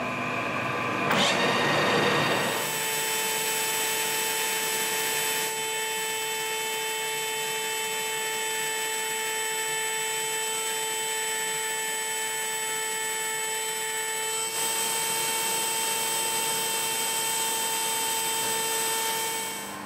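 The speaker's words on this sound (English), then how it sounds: "I'm going to run the lathe in reverse and then turn the Dremel on and have a crack at it." A lathe spins in reverse while a Dremel rotary tool grinds against the turning work, a steady high whine with strong tonal hum that starts up after a short burst and holds evenly throughout.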